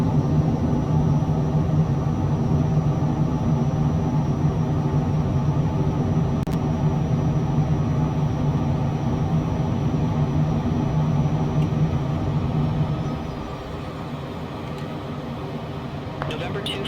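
Citation CJ4 business jet climbing out after takeoff from the cockpit: a steady loud engine roar that drops slightly in level near the end, with no talk over it.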